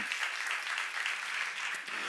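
Audience clapping at a church seminar, a steady, dense round of applause filling the hall continuously without voices on top.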